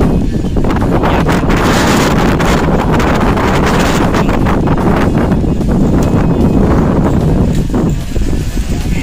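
Strong wind buffets a dusty mountain trail on Mount Sumbing, roaring loud and steady against the microphone the whole time with gusty rustling and no let-up.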